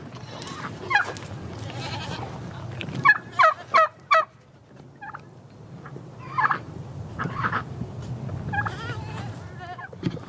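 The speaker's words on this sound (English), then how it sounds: "The Tom is gobbling." A tom turkey gobbles in a farmyard, a loud rapid burst of rattling calls near the middle, amid other farm animal noises such as goat bleats and scattered clucking.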